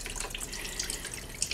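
A small decorative waterfall fountain on a summer veranda gives a continuous soft trickle and splash of falling water, fairly close and quiet, with no talking.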